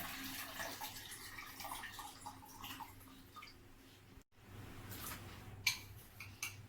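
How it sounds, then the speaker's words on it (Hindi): Water pours and splashes steadily into a blender, a continuous close rushing and gurgling sound with a brief pause midway. "सबसे पहले मैंने ब्लेंडर में पानी डाला"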